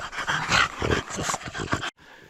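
Dogs in a spruce forest make quick, close panting breaths and soft whimpering sounds in uneven bursts, then go suddenly quiet near the end.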